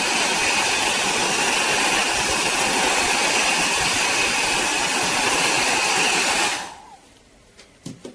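A heat blower shrinking a heat-shrink rubber grip onto a fishing rod, a loud, steady roaring whoosh that runs continuously for about six seconds before cutting off, leaving a few faint handling clicks.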